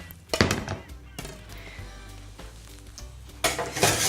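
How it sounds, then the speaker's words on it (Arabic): Spoon stirring lemon zest into a mixture in a pot, soft scraping and clinks running throughout, with louder bursts of clattering near the start and end. "غادي نضيفوا القشره ديال الحامض وغادي نخلطوا"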